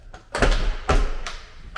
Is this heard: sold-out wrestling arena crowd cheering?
no